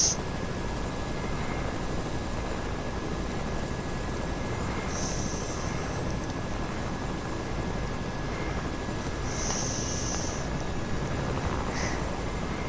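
A helicopter in Fortnite drones on in a steady, continuous engine and rotor hum, with brief high-pitched bursts layered on top around the middle and near the end.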